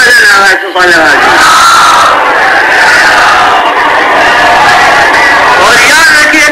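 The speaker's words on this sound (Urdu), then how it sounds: "پھر وزن آواز صلوات" Massed voices at a Shia majlis gathering chant salawat loudly in a long, swelling unison that rises and falls, close and dense, with only a brief dip near the start.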